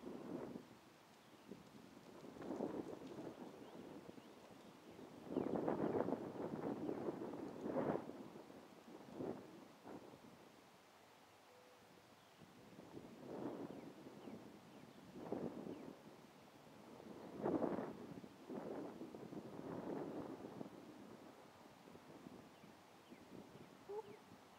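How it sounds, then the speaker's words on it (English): Wind gusts outdoors on a hatchery trail in swelling, rumbling bursts of buffeting noise, rising and falling over about twenty-five seconds, with no talking. "it's a little windy today"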